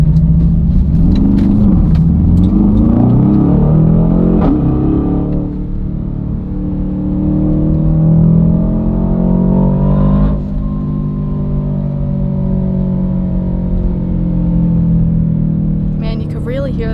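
Inside the cabin of an Aston Martin DBX 707 SUV, the engine rumbles and revs loudly, pitch climbing through gear pulls with a shift midway, and people talk over it.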